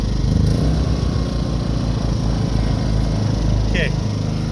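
Two Ryobi generators running in parallel, a loud, steady, close engine drone whose pitch rises slightly as the engines speed up.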